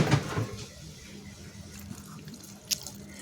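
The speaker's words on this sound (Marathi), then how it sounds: "थोडंसं पाणी टाकते" Water poured into vegetables cooking in a pan, a brief splash and drip at the start settling into soft bubbling and patter, close with no talking.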